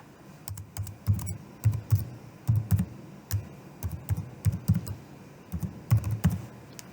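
Keystrokes on a computer keyboard as login credentials are entered, a steady run of light clicks and taps close by, with short pauses between bursts and no talking.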